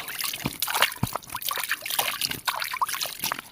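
Water poured and trickling into a fishing bait mixture for big Thai river carp, a close, steady dribble and splash with small bursts of slosh, and no talking.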